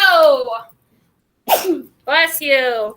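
A single sharp sneeze from someone in a classroom during a math lesson, loud and close, followed by a short spoken response.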